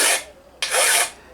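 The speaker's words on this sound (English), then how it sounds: "So you can file it in" A hand file rasps along the edge of a steel armour plate for a medieval thigh plate in two close, harsh strokes, separated by a brief pause.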